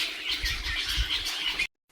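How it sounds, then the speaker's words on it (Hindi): A flock of grey-headed starlings calls from inside a tree in the Himalayan foothills in early evening, making a dense, steady chatter of harsh squawks that carries on without a break and then cuts off abruptly. "ये ग्रे हेडेड स्टारलिंग्स का कोलाहल सुनाई दे रहा है इस पेड़ के अंदर से"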